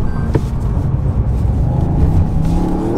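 A Toyota GR Yaris engine pulls strongly on a mountain road, a loud, close, low rumbling drone with a rising tone toward the end, heard alone without talk.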